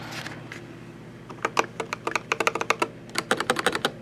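A Dierya DK61 RGB mechanical keyboard is typed on nearby in quick, uneven bursts of crisp clicky keystrokes, with brief pauses between runs and no talking.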